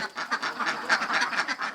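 A flock of laying ducks on a farm quacking continuously, many overlapping calls in a dense, steady chorus at close range with no talk.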